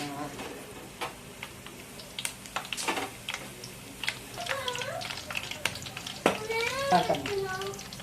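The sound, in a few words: curry leaves, onions and green chillies frying in pan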